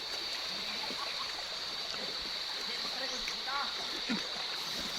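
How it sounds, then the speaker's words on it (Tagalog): Steady broadband rush of a flowing river in Bacacay, Albay, Philippines fills the scene, with faint birdsong and occasional splashes over the constant wash. "Ang sarap ng tunog ng ilog,"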